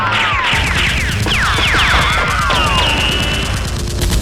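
Toy Nerf blasters fire in a staged Nerf war, a dense rapid volley of snapping shots layered with whooshing sweeps and bangs that stays loud and busy throughout.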